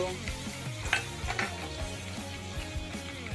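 Coriander frying in a little oil for a brinjal and fenugreek curry, a soft sizzle under a low, steady hum, with a few light scrapes and clinks of a spoon against the pan.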